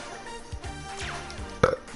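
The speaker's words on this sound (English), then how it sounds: "Excuse me for my burp." A single close, throaty human burp rises briefly and loudly out of a murky room-tone background.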